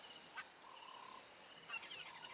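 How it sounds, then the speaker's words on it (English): Several birds call on a sunny morning safari in the African bush, with thin high whistles, a sharp chirp and softer lower notes overlapping at a moderate distance against quiet background ambience. "You can hear a lot of different bird calls."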